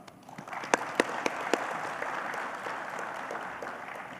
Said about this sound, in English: Let's start with a big applause.